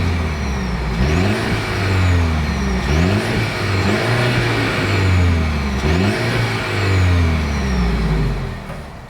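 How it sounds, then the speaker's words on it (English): A 2026 Mercedes-Benz GLE 350 SUV is revved close up, its engine note rising and falling in about three repeated pulls, loud and alone without any talk. "As always, here is that exhaust clip."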